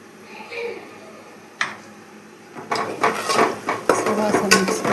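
Black masala being mixed into a fish curry in a pan. A metal spoon clinks and scrapes against the pan, sparse at first and then busier and louder, close by, with a faint voice briefly near the start.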